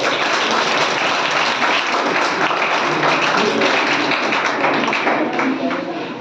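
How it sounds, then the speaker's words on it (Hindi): Sustained applause from a crowd at an award ceremony, thick and even throughout, with a voice faintly mixed in, tapering slightly at the end. "तालियां कम नहीं होनी चाहिए।"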